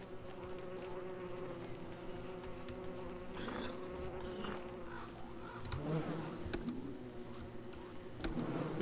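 A dense swarm of bees buzzes continuously in the video game Don't Starve, a steady close drone with some louder swells toward the end.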